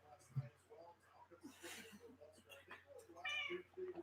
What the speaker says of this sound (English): We've got a cat here who really wants to be in this video.